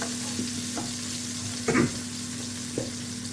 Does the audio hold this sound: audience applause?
no